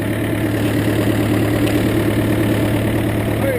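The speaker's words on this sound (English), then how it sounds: "I am on the tractor, currently grading the lane" Steady, loud diesel engine drone of a tractor running at a constant idle while grading a farm lane, a low rumbling hum with no pauses.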